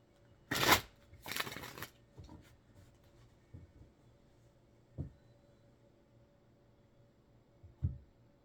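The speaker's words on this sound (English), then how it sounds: "We're going to go ahead and shuffle these ones up for the first week of August so that we have a nice collection of cards ready to go." Deck of tarot cards being shuffled, two quick riffling bursts up close followed by soft scattered taps and card handling, with no talking.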